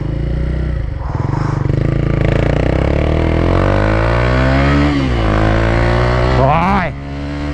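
A Yamaha FZ 15 motorcycle engine revs hard and close, its pitch climbing and falling through repeated throttle blips before dropping off sharply at the end, with people talking underneath.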